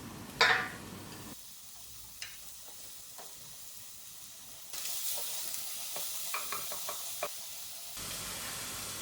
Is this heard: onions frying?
yes